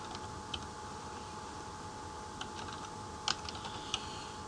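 Typing on a computer keyboard: a run of soft, irregular key clicks with a few sharper taps, close and quiet over a faint steady hum.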